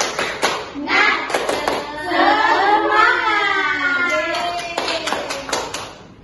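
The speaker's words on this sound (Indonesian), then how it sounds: "Tepuk semangat" An elementary school class does a rhythmic spirit clap, sharp bursts of hand claps at the start and end around a stretch of children chanting together, with a teacher's voice leading.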